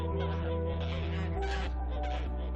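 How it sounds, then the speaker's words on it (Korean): Geese honk repeatedly in a flock of females and a dominant gander, a steady run of nasal calls over constant low background noise, fairly faint, with no talking. "비록 그레이가 지금 이렇게 되었지만 결코 만만한 상대가 아님을 아는 덕이는 수시로 암컷 거위들의 동요를 막는다"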